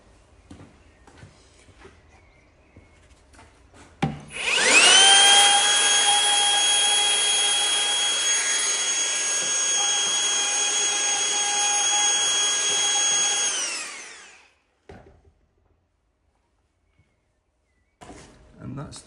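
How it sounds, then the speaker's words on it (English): A router fitted with a chamfer bit cuts along the edge of green oak, a loud, steady high-pitched whine lasting about ten seconds that winds down at the end, with faint workshop knocks before and after. "I go over it with a chamfer bit on a router"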